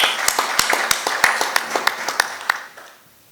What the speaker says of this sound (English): I think Richard deserves a very, very big round of applause for this exposition.